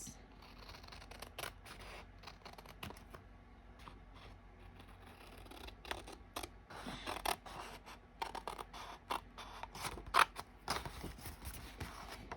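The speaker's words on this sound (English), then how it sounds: "those are not good scissors to cut stuff like this" Quiet, close-up snips and scratchy rustles as scissors cut through paper in irregular bursts, with no talking.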